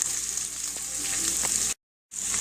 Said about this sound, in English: I'm also cooking up some pork and gonna make some wraps in it